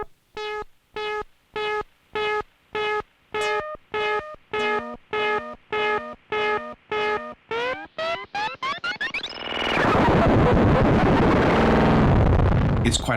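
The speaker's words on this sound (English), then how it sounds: "If you turn it all the way up, it goes crazy." Stylophone Gen X-1 synth notes repeated in a steady stream of echoes, with the delay feedback at maximum so the repeats pile up and break into a loud, dense, continuous roar of self-oscillating noise.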